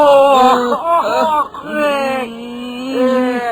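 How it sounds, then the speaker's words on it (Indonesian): A baby crying inside a hut in a radio drama, heard as a close, loud, wavering wail with a whimpering quality that rises and falls across several breaths. "Dia mendengar ada tangis seorang bayi dari dalam gubuk, Tuanku."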